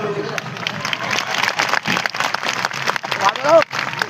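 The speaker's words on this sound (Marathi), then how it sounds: "एकदा जोरदार आयोजन कमिटीसाठी टाळ्या वाजवा" A crowd at a Marathi motivational speech event claps loudly for the organising committee. Irregular bursts of applause are mixed with someone speaking over them.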